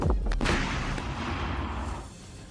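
A rocket launcher fires in Ukraine war combat: a sharp, heavy blast opens the moment, then a rumbling roar trails off and fades over about two seconds, heard at a distance with no voices.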